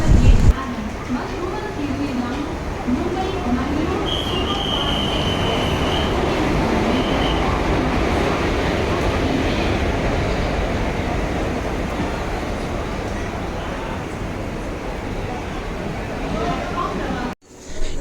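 Train travelling on a railway, heard as a steady, continuous rolling rumble from inside or near the carriage, with a brief high squeal early on and constant loudness until a sudden cut near the end.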